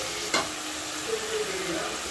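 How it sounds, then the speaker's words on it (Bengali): Chicken pieces frying with lightly browned onions in a pan: a quiet, steady sizzle with one sharp utensil tap near the start, heard close and faint. "পেঁয়াজটা একটু ভাজা ভাজা হয়ে যাওয়ার পর আমি চিকেনটা দিয়ে দিলাম"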